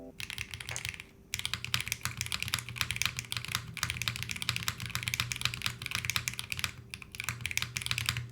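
Steady fast typing on a flippable 60% mechanical keyboard with an attached numpad, resting directly on the desk without a pad; dense, continuous key clatter close up with a brief pause near the start, and a low hum beneath.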